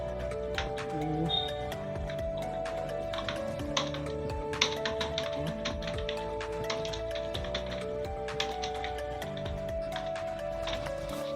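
Steady typing on a computer keyboard, with rapid, irregular key clicks continuing throughout at a close, moderate level over a faint background hum.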